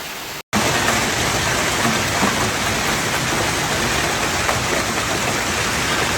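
Heavy rain mixed with hail pours down steadily during a Denver, Colorado storm, a loud, dense and unbroken roar that starts after a brief dropout and continues with no voices.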